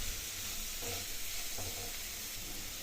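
Cucumber curry with salt and coriander powder sizzles faintly in a pan, a soft continuous hiss with a couple of gentle stirring strokes, no talking.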